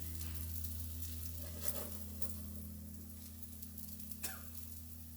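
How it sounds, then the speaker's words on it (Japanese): Eggs frying in a pan for a first-attempt omurice, a soft steady sizzle running under a constant low kitchen hum, with a couple of faint clinks and scrapes as the egg sets. "もう少し卵が固まったらお皿に移す。"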